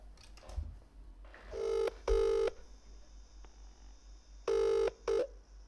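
Several bursts of electronic telephone keypad tones, two pairs of steady beeps separated by a pause, loud and close over a quiet background hum.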